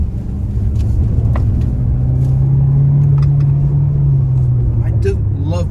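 An MG HS hybrid PHEV engine accelerates on the road, a loud steady rumbling drone whose pitch climbs then eases off, heard from inside the car amid road noise.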